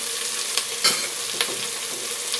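Green chillies go into softened tomatoes frying in a pan for egg biryani, giving a steady close sizzle with a few sharp stirring scrapes and clinks of the spoon, with no voices.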